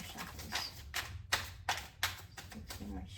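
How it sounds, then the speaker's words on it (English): A tarot deck gets shuffled in quick, repeated riffles and taps, each burst brief and crisp, with faint room hum underneath during a card reading. "Let's do a few more shuffles."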